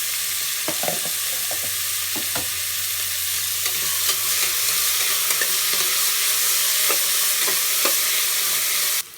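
Onions sizzling in hot oil in a pan while cooking mutton biryani, a steady frying hiss broken by a few scrapes and clinks of a stirring spoon, close and fairly loud.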